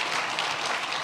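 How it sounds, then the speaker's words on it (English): Brief burst of audience applause, an even wash of many hands clapping at moderate loudness with no voice over it. "Big round of applause."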